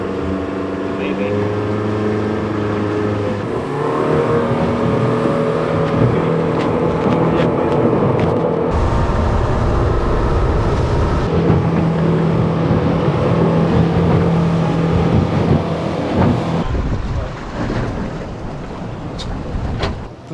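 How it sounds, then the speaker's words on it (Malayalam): A motorboat engine drones steadily as the boat is driven out on the sea off New Zealand on a deep-sea fishing trip, a loud continuous hum with shifting tones and rising revs, people talking over it. "ഞാൻ ബോട്ട് ഓടിക്കുന്നുണ്ട്"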